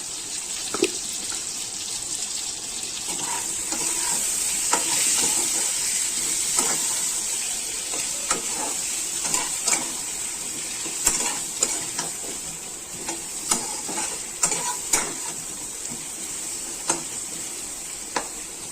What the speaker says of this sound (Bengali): একটু হলুদ দিয়ে এই আলুগুলোকে ভাজবো